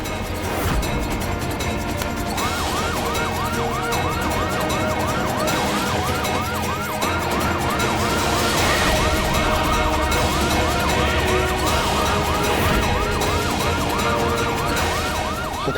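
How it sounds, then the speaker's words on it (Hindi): A police vehicle's loud wailing siren cycles rapidly up and down over a rumbling engine, continuous and close, with no talking. "अरे सायरन चालू कर"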